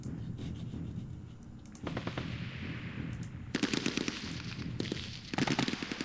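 Bursts of 81mm mortar fire in an Arab-Israeli war strategy game, with rapid crackling volleys starting around two seconds in and again near 3.5 and 5.4 seconds, loud and close with no talk.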